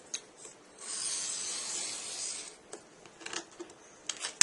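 A piece of model jetway material being cut in half: a rasping, scraping cut sound lasts about two seconds, close and fairly quiet, followed by lighter scrapes and taps.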